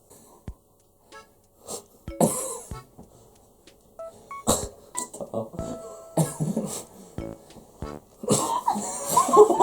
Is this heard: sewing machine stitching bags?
no